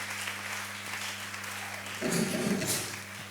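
Members of a church congregation break into applause for the Lord, with a burst of clapping rising after a held musical tone and then continuing at a moderate level.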